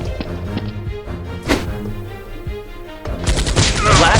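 Nerf gun fire in a mock crime-fighting skit: a burst of sharp bangs and rapid cracks, loud and close, with busy clattering action around it and a dense rattle building toward the end.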